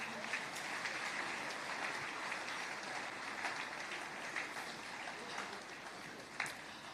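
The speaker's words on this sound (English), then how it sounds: "Keep clapping." Audience clapping after a talk at an entrepreneurship event, a soft, distant, steady patter of many hands continuing throughout.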